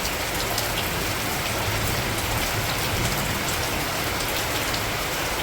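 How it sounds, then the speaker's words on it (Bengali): Heavy rain pours steadily over a waterlogged field and flooded gate area, a dense continuous hiss of drops on surfaces, close and loud throughout with no speech. "দারুণ সুন্দর এই বৃষ্টিটা অনেক দিন বাদেই এলো"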